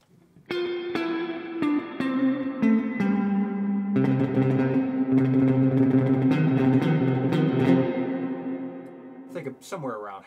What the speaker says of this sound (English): And then your spring reverb.